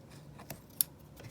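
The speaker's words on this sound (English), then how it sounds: "just trimming these threads from when I first started" Small scissors snipping loose sewing threads at a sewing machine, a few quiet, sharp clicks of the blades close by in a calm room.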